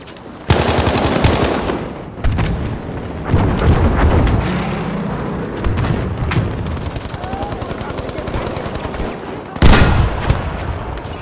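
A video game battle erupts as a grenade blast bursts out with a heavy boom, followed by continuous loud machine-gun fire rattling for several seconds and another sharp explosion near the end.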